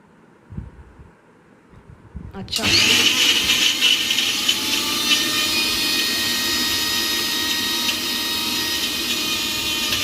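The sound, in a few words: mixer grinder grinding cumin, pepper and fenugreek into paste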